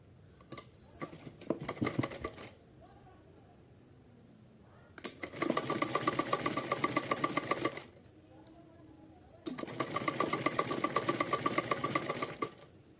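A sewing machine stitches gota lace onto a small cotton Kanha ji outfit, running in several bursts of rapid rattling, the two longest lasting about three seconds each, separated by quiet pauses with faint handling.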